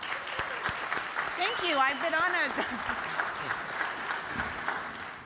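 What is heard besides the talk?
audience applause at a media forum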